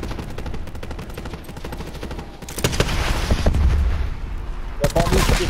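Gunfire in Call of Duty: Black Ops 4 Blackout crackles in rapid repeated bursts, with louder heavy shots and booms later, mixed with game sound and players talking.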